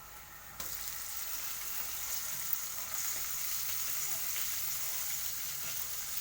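Onions sizzling in hot oil with turmeric and ginger-garlic paste just added, a steady close frying hiss that jumps louder at the start, with a few faint stirring clinks.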